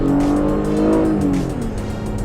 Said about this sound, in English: It's a nice sounding engine. It's a V6.